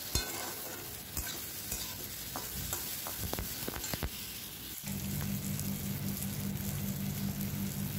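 Ground pointed gourd paste sizzles and fries in a pan while a spoon stirs and scrapes through it in repeated strokes, then the frying settles into a steady close hiss.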